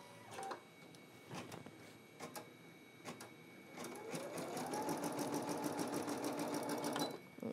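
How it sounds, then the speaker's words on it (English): A Brother embroidery machine stitching text gives quiet clicks and taps at first, then settles into a steady, close, rhythmic whirr of fast stitching that runs for several seconds before stopping. "Okay, and now we're ready to start embroidery here."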